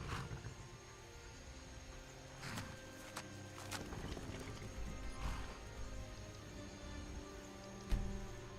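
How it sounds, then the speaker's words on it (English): Horse arriving in Skyrim, with soft clip-clop hoofbeats and a faint whinny over quiet game ambience, ending in a brief louder thump near the close. "Our horsey's here."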